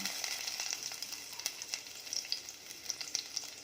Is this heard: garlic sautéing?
yes